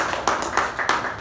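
A short run of a few evenly spaced claps at a communication club meeting, moderately loud and rhythmic, with no voices over them.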